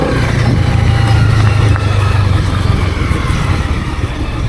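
A motorcycle carries a rider and a passenger on the pillion seat at a gentle pace under 30, its engine droning steadily and loudly with a constant low hum and rushing wind noise throughout.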